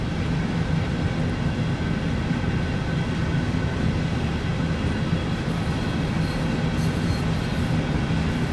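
Steady, close rumble of a locomotive running in Train Sim World 2 on the Hamburg–Lübeck main line, a continuous low drone with constant loudness and faint tonal hum, no talking.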